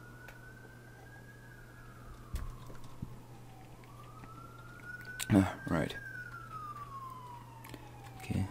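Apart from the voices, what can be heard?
ambulance siren outside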